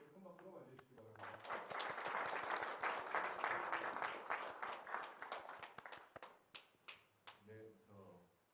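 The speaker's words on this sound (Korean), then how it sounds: "나오실 때 큰 박수로 맞이해주시기 바랍니다" An audience at a business forum welcomes a speaker to the stage with applause that swells after a quiet start, holds steady, then thins into a few scattered claps before fading.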